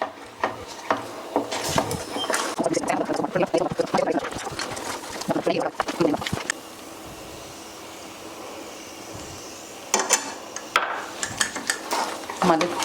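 Halwa with ghee being stirred in a pan, with clattering scrapes and knocks of a utensil against the pan in bursts, pausing midway, while a person talks throughout.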